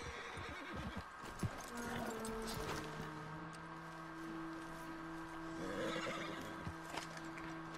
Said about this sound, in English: the horse is running away.